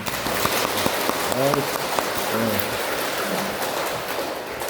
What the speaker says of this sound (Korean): 우리 모두를 위해서 다시 한번 박수 한번.